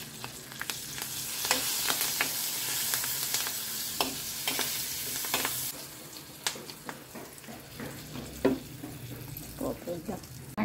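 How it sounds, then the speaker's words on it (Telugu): Whole spices tempering in hot oil for rasam, a steady sizzle and crackle with sharp clicks and pops scattered throughout, close and fairly quiet, with a clatter of utensils and a faint water sound in the kitchen. "చారు కూడా పోపు వేస్తున్నా."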